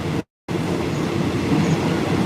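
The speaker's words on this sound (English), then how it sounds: "I'm on the train, so I don't know how good the sound's going to be." Passenger train travelling to Bangkok, Thailand, heard from inside the carriage: a steady, close rumble of wheels and rattling, broken by a brief dropout near the start, with no speech.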